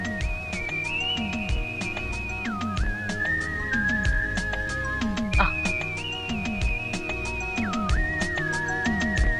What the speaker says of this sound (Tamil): ஒரு ஐயா மேலிருந்து வந்து விசில் அடிச்சாரு